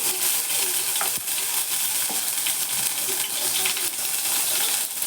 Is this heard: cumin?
yes